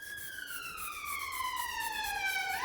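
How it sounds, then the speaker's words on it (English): Ambulance siren wailing outside during the day, a steady loud rising-and-falling tone sweeping through the whole stretch with no talk over it. "sorry about the ambulance"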